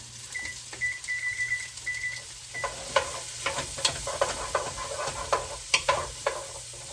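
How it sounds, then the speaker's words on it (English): Green peppers and onions soften in a pan under constant stirring: a moderate sizzle with rhythmic spatula scrapes and knocks, preceded by a few short electronic beeps at the start. "And you want to be stirring them constantly while they're cooking."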